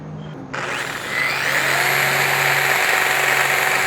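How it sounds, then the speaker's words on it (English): A power tool spins up and runs steadily while rotary sanding stainless steel pipe with 320 grit sandpaper lubricated with tallow grease, starting with a brief click, then rising into a continuous high whirring grind that holds close and loud. "We're going to speed sand it or rotary sand it."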